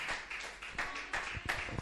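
A church congregation claps hands in a quick, slightly uneven rhythm, several claps per second, close and fairly full, with no clear speech over it.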